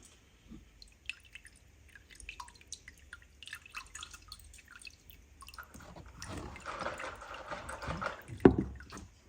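Old oil draining from the oil filter housing of a VW Touareg 7P 3.0 V6 TDI as the filter is slowly pulled out, with scattered wet drips and squelches that build into a close trickling flow.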